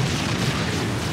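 Explosions in a Supreme Commander: Forged Alliance 3v3 match give a steady, loud, low booming rumble that carries without a break, with no talk over it.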